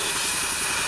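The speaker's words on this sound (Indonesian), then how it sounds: "membersihkan pakai cleaner karbu secara manual seperti ini bersih" Carburetor cleaner spray hissing onto the valves of a Honda Scoopy scooter engine during a tune-up, a steady close bright hiss lasting about a second with no voices.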